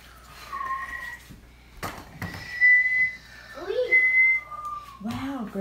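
Children whistling during a kids' valentine musical chairs game: several thin, wavering whistled tones rise and fall in short bursts, mixed with excited children's voices and brief knocks.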